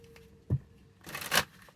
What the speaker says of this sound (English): I just shuffle till it feels like I'm done